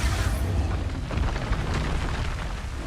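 Expulso spell explosion in the Hogwarts Legacy video game: a single heavy, close boom followed by a long rumbling, crackling tail.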